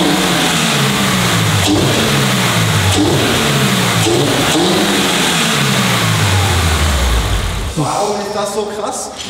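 A loud, close Toyota GR86 sports car with an aftermarket exhaust revs repeatedly while standing still, the pitch climbing and falling in several rising bursts before dropping to a rumbling idle.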